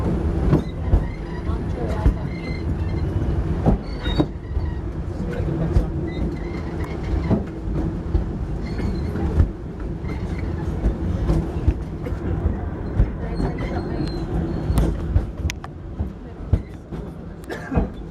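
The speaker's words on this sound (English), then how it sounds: "the train will be there to pick you up every 5 minutes" Animal Kingdom's park train to Rafiki's Planet Watch rumbles steadily along the track, a continuous loud rolling drone with faint clickety-clack, while voices murmur over it throughout.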